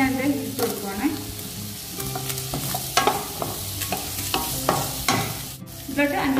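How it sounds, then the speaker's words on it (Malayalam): Two dried red chillies hit hot oil in a pan for a butter paneer masala, raising a steady sizzle under repeated clanking stirs of a spoon against the pan. "നമുക്ക് ഇതിലോട്ട് ഒരു രണ്ട് വറ്റൽമുളക് ഞാൻ ഇട്ട് കൊടുക്കുവാണ്"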